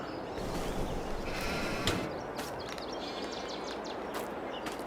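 Sheep bleat faintly in the Farming Simulator 22 video game, a few short calls over a steady low background hum.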